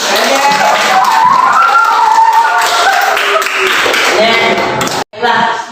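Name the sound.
class clapping hands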